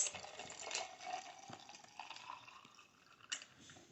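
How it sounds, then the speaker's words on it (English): Singing Canary drink poured from a gallon jug into a jar: a soft, close liquid trickle with light splashing that continues for a few seconds, then a brief louder splash near the end. "Now I'm going to pour a jar."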